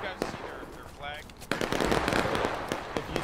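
Musket volley in the War of Rights American Civil War video game, a crackling burst of many overlapping shots, with shouting voices under and around the fire.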